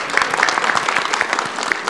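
Audience applause from a live panel crowd at a PAX East gaming convention, a dense patter of clapping that holds steady and fairly loud through the short stretch.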